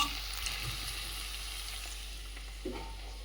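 Onions, green chillies and curry leaves fry in a pan as the base for a drumstick and punukulu curry. A quiet, steady sizzle runs throughout, with a soft clatter near the end.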